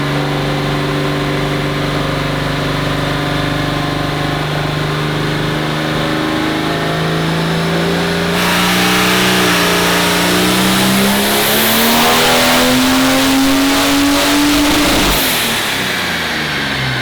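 Chevrolet S10 engine revving on a test run, pitch climbing steadily as rpm rises toward the cutout, then dropping sharply; loud, close and continuous with no talk.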